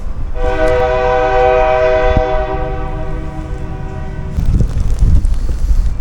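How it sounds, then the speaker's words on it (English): A train in a downtown street sounds a long, loud steady horn blast for about four seconds, followed by the heavy low rumble of the train rolling past nearby. "there's a train"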